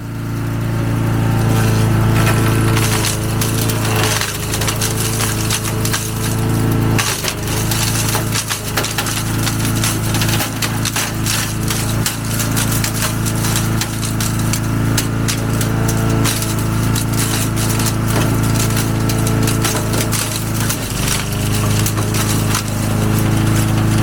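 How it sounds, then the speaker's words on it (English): An old garden shredder, about thirty years old, chops twigs for compost, roaring loud and continuous with a steady motor hum and crackling, splintering bursts as the wood is fed through. "put them through my shredder here and chop them into finer bits"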